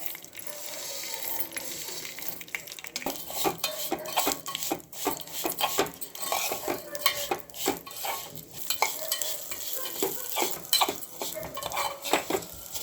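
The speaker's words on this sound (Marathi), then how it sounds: "शेवया परतून घेऊ. आता तूप घालूया. शेवया घालूया." Thick vermicelli roasted in ghee in a metal pan, with a spoon clattering and scraping steadily against the pan and only a faint sizzle beneath the busy stirring.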